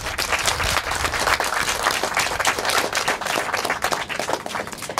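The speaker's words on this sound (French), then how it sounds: "On peut les applaudir." An audience applauds steadily at a community disability-awareness event in the MRC des Sources, dense clapping filling the room for about five seconds without a break.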